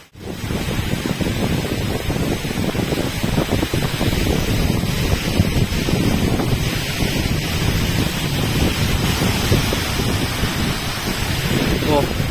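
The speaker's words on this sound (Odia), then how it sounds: "ବାହାରେ ବାପରେ, ଏତେ ଜୋର ପବନ ବର୍ଷା" A strong wind and rainstorm roars outside, a dense, unbroken rush of driving rain and gusting wind buffeting the microphone loudly throughout.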